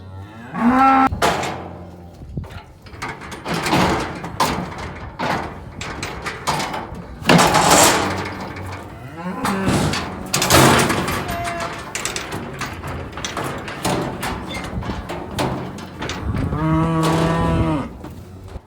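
Beef cattle in a squeeze chute at spring vaccination moo loudly and repeatedly, several long bellows overlapping close by, with clanks of the chute and brief handling noises between calls.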